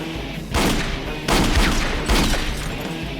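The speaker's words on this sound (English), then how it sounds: "Shots fired." Three bursts of gunfire in an action film, each a loud, sharp blast with a long echoing tail, spaced less than a second apart, alone with no talk.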